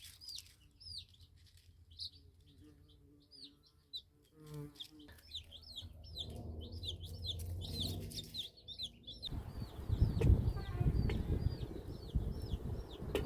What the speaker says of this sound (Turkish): Civcivlerimi dışarı çıkardım.